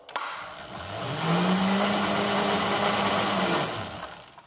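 A car wheel and tire, freshly bolted on, spun up off the ground with a noticeable tire wobble; a steady mid-pitched whirring hum rises over about a second, holds for a few seconds, then winds down, fairly close and with no talk.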